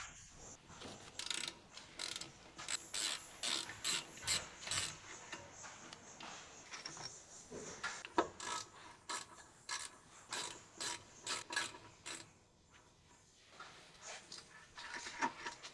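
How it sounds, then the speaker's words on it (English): Rapid, steady clicking of a ratcheting wrench with a 10 mm short socket loosening rear brake caliper retaining bolts on a Dodge Ram 1500, repeated bursts of ratchet strokes close up, no talking. "Using the medium 10 mm short socket with the medium ratcheting wrench, remove the brake caliper retaining bolts"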